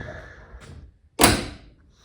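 The door of a 1967 Dodge Coronet 440 swings shut with a single solid thunk, close and clear after a brief quiet, following some faint handling noise.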